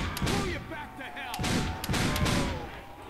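Shotgun fire in Call of Duty: World at War custom zombies, a few loud booming shots spaced about half a second apart, mixed with game sounds and a little talk.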